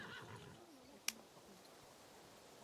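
A horse neighs in a video game, a short whinny rising out of a quiet ambient bed, followed by a brief sharp click.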